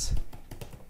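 Someone types code on a computer keyboard, a few soft, close key taps over a faint background hiss, brief and quiet.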